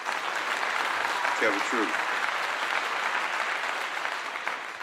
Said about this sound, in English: I give you all a clap.